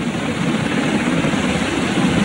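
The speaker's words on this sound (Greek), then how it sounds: "Ένα ελικόπτερο του ναυτικού φτάνει στο σημείο" A navy rescue helicopter hovers over a rock during a mountain climber rescue in Thailand, its rotor and engine making a loud, steady, close churning drone throughout.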